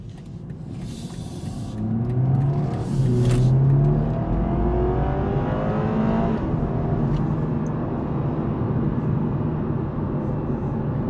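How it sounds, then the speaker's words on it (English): A 2022 BMW 230i Coupe accelerating hard in sport mode, engine note rising loud and close through the gears with a brief shift mid-run, then a sustained steady roar. "accelerating 0 to 60 in sport mode, once you reach 60, it's basically just getting started"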